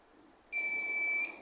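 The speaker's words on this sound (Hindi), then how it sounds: "अभी मैं बजा रहा हूँ देखिए हूटर बजेगा" A wireless remote-controlled railway worksite hooter switches on abruptly after a quiet moment, giving a loud, steady, high-pitched electronic tone that holds for about a second.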